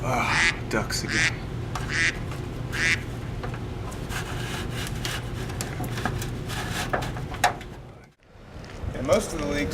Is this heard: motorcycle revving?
no